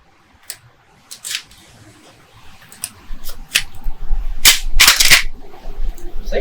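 A Spandau S2 shotgun fires a few shots, sharp loud blasts with broadband cracks at irregular intervals, the later ones closer together, over outdoor rumble.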